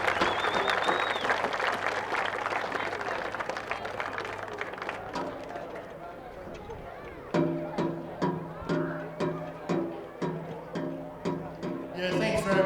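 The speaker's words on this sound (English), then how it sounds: "Round of applause to Barry." Crowd applause at a women's football grand final presentation, steady clapping that fades out, then a sharper, rhythmic clapping from a closer group.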